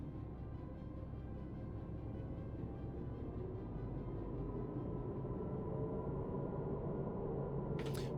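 A steady, dense rumble and hum fills the ride aboard a train in the Star Citizen video game, continuous and even throughout, with a brief high hiss near the end and no speech.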